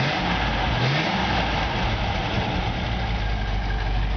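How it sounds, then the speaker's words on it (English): A 1951 Ford F1 pickup truck engine revs steadily and loudly up close, a continuous mid-range rumble held throughout with no talking. "Give it a little gas."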